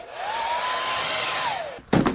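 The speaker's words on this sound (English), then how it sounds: "I'm going to get my hairdryer and give it another dry." A hairdryer blows on wet paint with a steady whining drone for nearly two seconds, then switches off and is followed by a short clattering handling noise.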